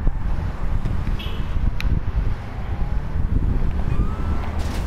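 Wind in GTA 5, a loud gusty rumble buffeting throughout, with faint whistling tones and brief sharp accents over the low roar.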